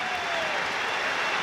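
A Liverpool crowd at Anfield claps steadily, a dense wash of applause from a large stadium audience, loud and unbroken for the whole moment.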